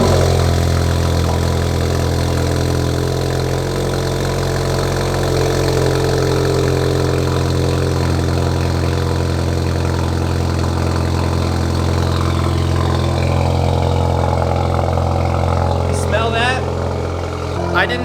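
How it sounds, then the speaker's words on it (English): A car engine idles loudly after a cold start with a newly fitted full exhaust system, a deep, steady exhaust rumble running continuously close by. "I wanted to get you guys a cold start with the whole exhaust system all set up"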